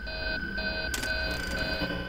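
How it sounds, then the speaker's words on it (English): A steady electronic alarm beeps in Five Nights at Freddy's 3, loud and continuous, with a sustained tone, a brief burst of broadband noise near the middle and no talk over it. "Oh, and there's the alarm, which doubles his aggression level."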